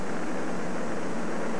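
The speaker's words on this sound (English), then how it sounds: "We have liftoff of Challenger in Space Lab 2." The Space Shuttle Challenger lifting off in 1985 with its main engines roaring, a dense, unbroken blast of broadband rumble and hiss that holds at full strength from start to finish, with no voices.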